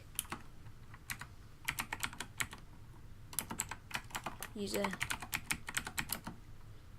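Python code being typed on a computer keyboard: a long run of quick, close key clicks in bursts with short pauses, under occasional brief speech.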